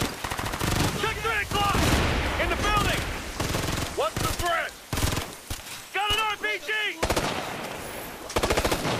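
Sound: gunfire in a video game

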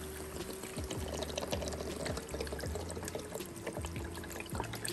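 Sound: pouring chicken and vegetable broth into a pot

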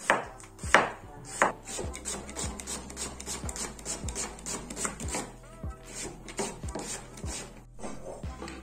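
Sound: knife chopping zucchini into small pieces

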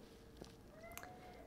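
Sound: real cat meowing

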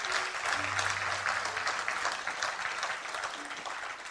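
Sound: audience applause for young artists at award ceremony

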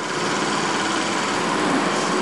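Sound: toy Stirling engine running at a toy steam show

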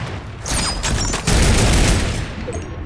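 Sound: gunfire from a video game weapon

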